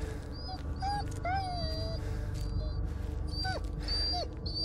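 A dog whimpers in the Blair Witch video game, giving a string of high, wavering whines and yips over a low, steady ambient rumble, some rising and falling in pitch, fairly close and loud.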